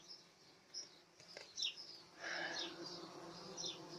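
Wild bees that have overwintered, busy at their hive carrying pollen, give off a faint, steady buzz, with a few soft bird chirps scattered over it outdoors.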